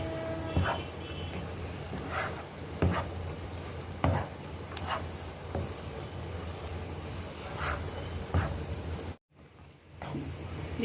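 Semolina roasting over high heat for halwa with egg and milk, a low sizzle under periodic scraping strokes of a spoon across the pan, close, with a brief cut to silence near the end.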